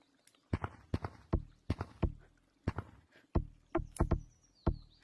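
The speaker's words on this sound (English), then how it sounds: "it's just comically loud hand taps" Exaggerated hand taps from a Gorilla Tag mod in the VR game: a series of loud, punchy thumps in uneven clusters, each with a short booming tail, close and dominant with no speech.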